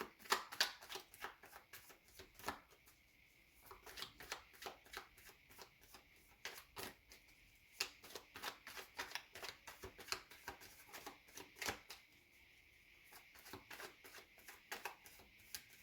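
Tarot cards being shuffled by hand during a reading, a long run of crisp riffling bursts and slaps repeating in irregular rhythm, close and fairly quiet with no talk over it.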